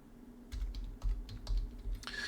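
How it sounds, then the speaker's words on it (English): Several key presses on a computer keyboard, a short run of distinct taps close by, with a brief brighter clack at the end. "if I just type that again"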